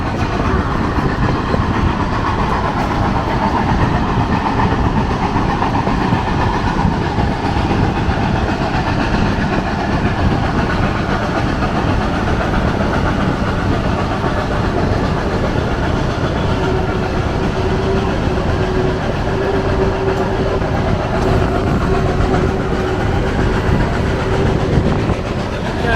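A steady, loud rumble of steam locomotive #2102 rolling along rails near Oxbow Curve, with continuous rhythmic clatter and a faint whistle-like tone appearing later on.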